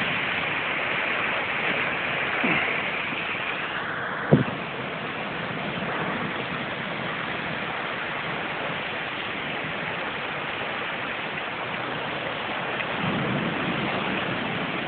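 Heavy rain pours down steadily during an evening thunderstorm, a dense, even hiss with one brief sharp crack early on.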